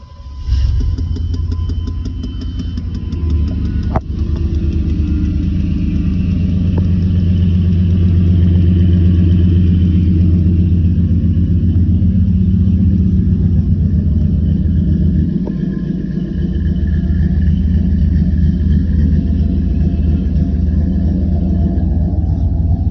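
A modified, non-stock V8 in a 1994 Chevrolet C1500 show truck runs steadily after starting, a loud deep rumble that holds nearly constant for the whole stretch, with a faint whine from a worn power steering pump and no talking.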